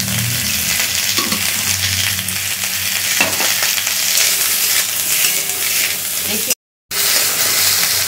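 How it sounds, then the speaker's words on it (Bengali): Bottle gourd frying in oil in a pan gives a steady, loud, close sizzle with stirring scrapes throughout, cut briefly by a short silent gap near the end. "লাউটা ভাজা হয়ে গেছে।"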